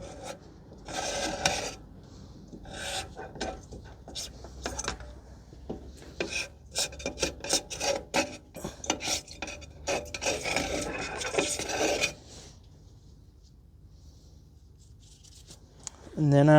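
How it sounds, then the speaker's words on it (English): A flathead screwdriver rasps and scrapes in short, gritty bursts across a rusty brake backing plate on a 2017 Toyota Corolla 1.8 rear drum brake, close up, then the scraping stops. "you can use a flathead screwdriver on the outer part of the backing plate. Clean down any rust."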